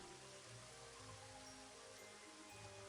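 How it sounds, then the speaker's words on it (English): Rain falls in the tropics in the video game Elder Scrolls 2, a faint, steady wash of hiss with no voices over it. "Warm and rainy day in the tropics makes you sweat."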